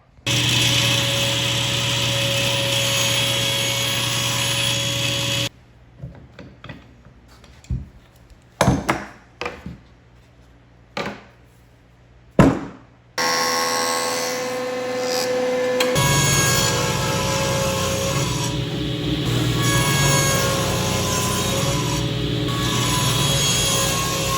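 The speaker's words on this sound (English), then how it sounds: "So just gonna run this through the crosscut sled and drop her off." A power saw runs at a steady loud whine while a wood piece is fed through a crosscut sled for a wooden toy backhoe loader build. A quieter stretch with a few sharp knocks follows, then the saw runs again.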